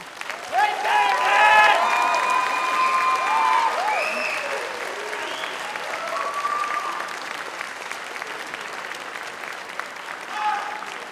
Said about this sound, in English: Let's have a round of applause for all of those people who have supported you.